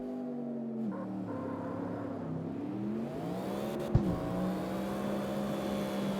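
An 800HP LS-swapped Sunny K truck in the CarX Street racing game drones steadily through a drag pull, its engine note rising and shifting in pitch, with a brief sharp click near the middle.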